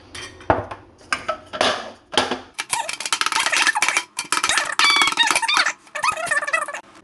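A metal baking pan handled and tapped while being floured, with clattering knocks, scrapes and squeaky metallic rattles in uneven bursts close up.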